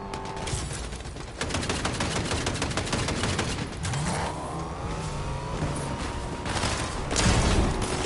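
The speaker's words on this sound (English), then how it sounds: "Is that a hand cannon or a pistol? Hand cannon." Hand cannon gunshots in the video game Fortnite, heard as a dense barrage of sharp shots and gunfire bursts mixed with engine-like revving and game noise, loud and continuous throughout.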